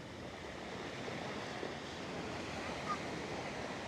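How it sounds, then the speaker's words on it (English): Waves surge up over a rocky, sandy Puerto Vallarta beach after a hurricane and splash on the shore, a continuous rushing wash mixed with wind buffeting the microphone. "the waves are coming all the way up here and splashing"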